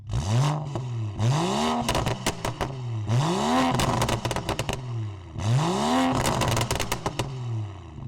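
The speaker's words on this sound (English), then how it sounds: "I'll be sure to plug in a clip of the sound of the car" A BMW 535i with the N55 engine and exhaust revving in three sharp bursts, each climbing fast then dropping with crackling pops and bangs on the overrun, loud and close with no talk.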